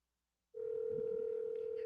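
A steady telephone tone, likely ringback while waiting for someone to answer, starting abruptly after half a second of silence and holding unbroken, clear and close, with faint background noise beneath.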